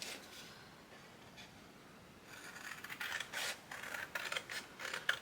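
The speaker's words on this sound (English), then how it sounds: "So we are going to cut along that score line." Scissors cut through cardstock along a score line with a series of crisp, close snipping and rasping strokes, starting after a quiet pause and growing louder toward the end.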